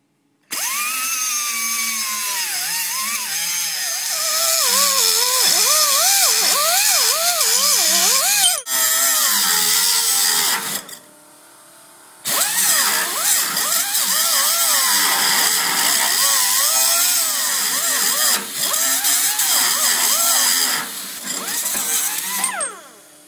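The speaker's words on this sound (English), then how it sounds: "2 wheels later and 45 minutes of this. It's done, the brackets are cut." A cutting wheel slices through steel brackets during a 1969 Mustang coupe restoration, giving a loud, sustained high-pitched grinding whine that rises and wavers as it bites, with a couple of brief pauses.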